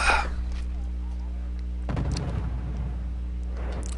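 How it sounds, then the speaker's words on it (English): Artillery fire in the real-time strategy game Wargame, multiplayer: a single dull distant boom rumbling low beneath a steady hum, with faint scattered pops before and after. "Some more artillery fire."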